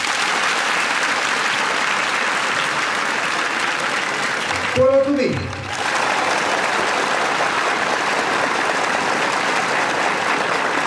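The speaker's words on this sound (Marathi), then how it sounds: "तुम्ही सांगा टाळ्या जोरात कोणाच्या?" A large crowd claps loudly and steadily without pause, with a brief shout from one voice partway through.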